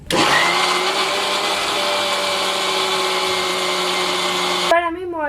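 Electric hand mixer whirring at a steady, loud pitch as it beats cake batter with crushed biscuit crumbs, running continuously for several seconds before abruptly cutting off near the end.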